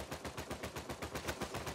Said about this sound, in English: I was shooting that guy.